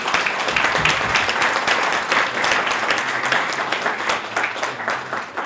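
An audience at a Fairbanks, Alaska visitor industry candidates forum claps in sustained, even applause, fairly close, with no talk over it.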